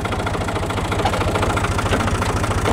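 A Fiat 500 Special tractor's engine runs steadily with the power take-off engaged for rotary tilling in a vineyard, a loud, even, rhythmic low thrum throughout with no voices.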